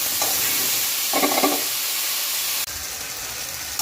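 Tomatoes, onions and chillies roasting in a pan, a steady broad sizzle with a couple of brief stirring bursts, then an abrupt shift in tone partway through.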